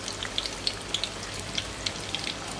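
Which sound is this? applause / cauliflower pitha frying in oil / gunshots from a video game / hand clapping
cauliflower pitha frying in oil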